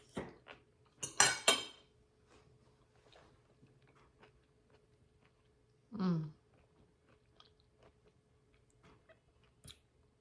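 Keto cheesy zucchini bake with crunchy veggies and bacon being eaten: a few close clinks of cutlery on a dish, a burst of crunchy chewing, then quiet with scattered faint ticks.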